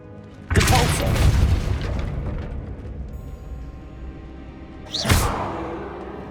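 The Depulso spell is cast in Hogwarts Legacy, giving a sudden booming whoosh that rumbles and fades over a few seconds. A second sharper blast follows near the end.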